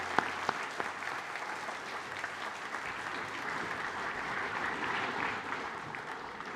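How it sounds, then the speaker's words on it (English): A school prize-giving audience applauds in steady, even clapping that stays fairly faint and distant, holding at a constant level without voices over it. "Let's please give them a round of applause."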